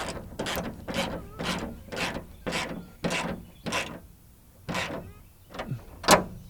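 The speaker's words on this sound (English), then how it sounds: "I can just stick the ratchet up there, or the wrench up here, ratchet on top, and go to town." A ratchet tightening bolts on an aluminum tractor canopy bracket, a steady run of about a dozen close, rhythmic clicking strokes with no talking.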